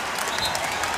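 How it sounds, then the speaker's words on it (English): A basketball arena crowd gives Allen Iverson a standing ovation during the NBA playoffs, with a broad, even roar of clapping that fills the space at moderate, distant-sounding loudness. "Standing ovation possession for Iverson."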